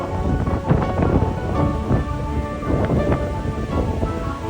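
Heavy monsoon rain pours steadily with deep rolls of thunder rumbling through, a dense, loud and continuous storm with no voices.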